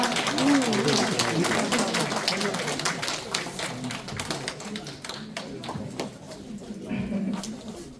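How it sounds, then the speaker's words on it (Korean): Audience clapping at a calligraphy exhibition award ceremony, a sustained crowd of hands with sharp individual claps, fairly close and continuous, with a voice faintly mixed in. "박수 부탁드립니다."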